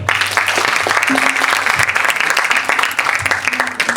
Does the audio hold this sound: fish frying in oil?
no